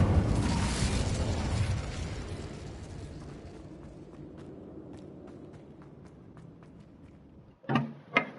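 An Incendio fire spell blasts out in the Hogwarts video game as a loud, whooshing burst that slowly dies away over several seconds. Sparse ticks follow, then two short sharp bangs near the end.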